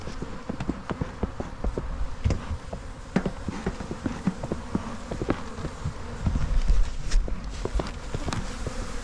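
Honey bees buzzing in an opened hive after a swarm has landed, a dense close drone with frequent sharp bursts and knocks as the colony stirs, no talk.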